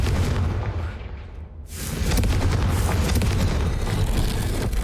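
In the Hogwarts Legacy video game, a Confringo spell detonates as a loud, deep boom, followed by a brief dip and then a sustained roaring rumble of fire and debris.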